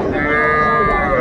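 A young bull calf lets out one loud, close, sustained moo at a busy cattle market, with crowd noise faintly underneath.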